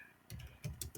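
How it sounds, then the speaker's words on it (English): A few quick keystrokes on a computer keyboard, close and fairly faint, arriving in small clusters with short pauses between them. "I'm going to type"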